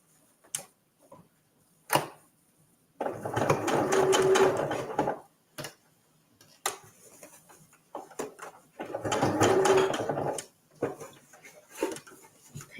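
A home sewing machine stitches a fabric visor tissue holder, pivoting and back-stitching around a small box: two sustained bursts of rapid mechanical whirring, each a couple of seconds long, separated by quiet handling clicks and thumps.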